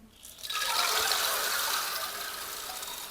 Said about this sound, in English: it's a mixture of water stream, but it can also resemble the sound of rain